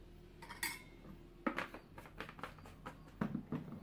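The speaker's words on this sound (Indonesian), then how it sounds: "Kita aduk sampai larut." Salt stirred into water in a bowl for homemade flour play dough, a spoon clinking and scraping against the container in irregular strokes, close and quiet with no talk.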